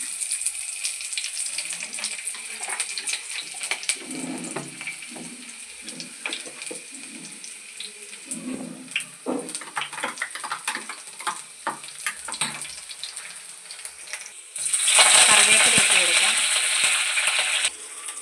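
Shallots and mustard seeds fry in hot coconut oil in a pan for a Kerala-style fish curry, giving a steady crackle of popping and spitting that swells into a loud, dense sizzle near the end.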